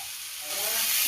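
Onion and garlic sizzle in a hot pan, a soft steady hiss that swells louder halfway through as the pieces hit the heat, close and alone without talk.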